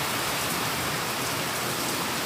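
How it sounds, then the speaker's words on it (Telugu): Heavy rain driven by strong wind pours down steadily as a dense, close hiss with no letup and no voices. "ఇదురు గాలితో కూడినటువంటి వర్షం అండి"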